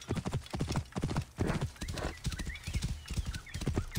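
Steady clip-clop of horse hooves at a trotting rhythm in Assassin's Creed Origins, close and clear, with a soft background hum throughout.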